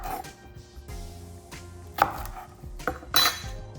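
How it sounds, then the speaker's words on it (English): Knife chopping plantains on a cutting board while preparing Filipino turon, a few sharp, separate thunks spaced irregularly, close and clear with no talk. "Cut off the edge, cut them in half."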